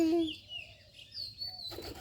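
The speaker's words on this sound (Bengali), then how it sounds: "এই দেখো আরো দুইটা বাবু কবুতর বুঝছো একসাথে দুইটা হয়েছে" Two baby pigeons make a few soft, faint cooing and squeaking calls close by in a quiet room, with short gaps between them.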